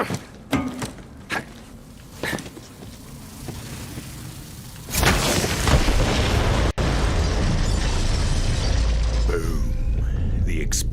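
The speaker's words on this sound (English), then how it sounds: "The explosion echoed through the forest" A loud, rumbling explosion from Borderlands 3 bursts in midway and sustains as a dense roar, after earlier scattered pops and thuds.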